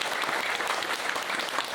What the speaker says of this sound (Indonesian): tepuk tangan dong untuk orang tua kita semuanya